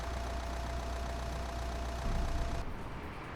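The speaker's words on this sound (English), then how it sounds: "His engine sounds so rough." A rough-running older diesel truck engine idles in Euro Truck Simulator 2, a steady low rumble that swells briefly and then drops in tone near the end.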